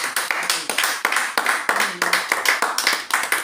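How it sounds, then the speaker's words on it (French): A church congregation claps in praise of the Lord, the hand claps landing in a quick, steady rhythm that stays fairly loud and close throughout, with no voices standing out. "Acclamons pour le Seigneur."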